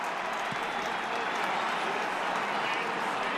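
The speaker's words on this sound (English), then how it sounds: "a bit of a rumble in the crowd for the new man at the controls" A college football crowd rumbles and cheers in a stadium during the Northwestern vs Iowa game, a broad, steady roar with some applause. A commentator's voice sits over it.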